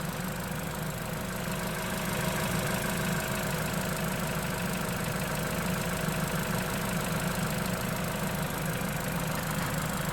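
A Vauxhall Corsa Ecotec engine idles as it warms up after an oil sump replacement, giving a steady, even mechanical hum with a light ticking texture throughout and no voices.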